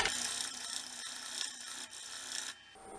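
A woodturning tool being sharpened, a brief continuous abrasive grinding rasp, close but fairly quiet, easing off near the end.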